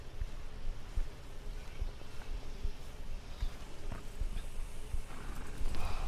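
Horse hooves walking in the video game Red Dead Redemption 2, a steady run of soft clip-clop thuds over a dense rumbling outdoor ambience, moderately loud with no talk.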